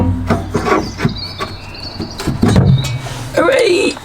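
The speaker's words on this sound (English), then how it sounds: "So hopefully I'll be able to wriggle the cage off the back now." Metal spare wheel cage being wriggled off the underside of a Peugeot 205 GTI, giving a run of close scraping, knocking and rattling bursts with brief squeaks, uneven and fairly loud.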